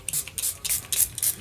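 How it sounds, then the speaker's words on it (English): Spray bottle misting water onto polymer clay, a quick series of about five short hissing spritzes in an uneven rhythm, close and fairly soft. "Let's just spray more water"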